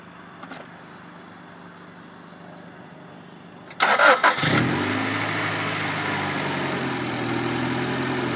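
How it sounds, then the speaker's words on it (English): A 1993 Acura Integra with a 1.8 liter engine cranks briefly and catches, then settles into a steady, even idle that holds close and loud to the end. "I'll come up front, show you the engine, have Jeremy walk around and start it for us"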